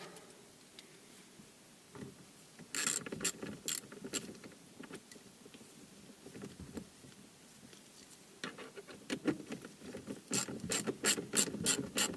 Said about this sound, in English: Put the two screws back in.